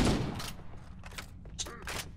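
Rapid bursts of gunfire from the video game Halo CE Anniversary, several quick clustered shots with mechanical clicks between them, fairly quiet overall.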